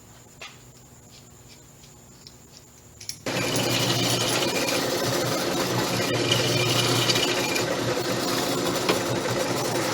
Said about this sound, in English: Okay, got it all drilled out.